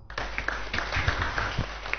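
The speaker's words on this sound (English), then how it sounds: "Give a round of applause." A modest indoor audience at a church talk claps in scattered, uneven applause for about two seconds, close-sounding and fairly steady, with no speech over it.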